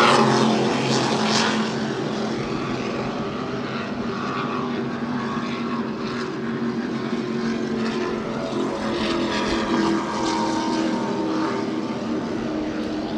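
Offshore racing powerboats, including a 40-foot Skater V-bottom and a Fountain, roar past side by side at a Super Boat Grand Prix in New York, a steady loud engine drone with rising and falling tones as they go by.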